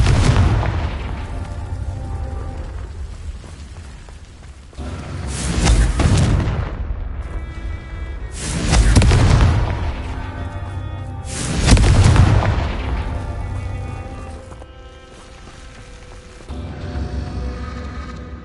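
Confringo blasting spells from a Harry Potter game go off as four heavy, booming explosions spaced a few seconds apart, each loud and close with a long rumbling decay, and no talking.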